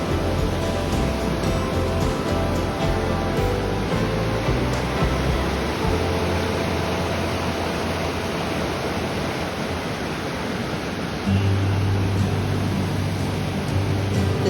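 Steady broadband rush of waterfalls at Southford Falls State Park in Connecticut, heard near a covered bridge, a continuous loud roar of falling water with no pauses and no voices.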